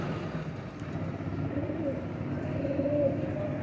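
A netted-pattern Firozpuri pigeon coos softly in a pigeon shop, low and muffled under a steady background hum.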